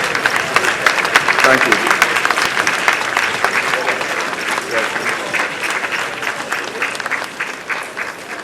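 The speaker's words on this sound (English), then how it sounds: "I think he deserves a bigger round of applause for a masterful presentation." An audience applauds a speaker at the launch of a memorial heritage project, a loud, dense burst of many hands sustained for several seconds while someone speaks over it.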